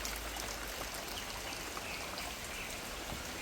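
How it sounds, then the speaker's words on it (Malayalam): Steady rain falls outdoors behind a house in monsoon weather, a dense, even hiss of drops with no pauses, heard alone with no voices. "ഇനി ഒരു 3-4 ദിവസം കൂടി ഇങ്ങനെ മഴ പെയ്യുകയാണെങ്കിൽ പുഴ പോലെ വരമ്പൊന്നും കാണില്ല"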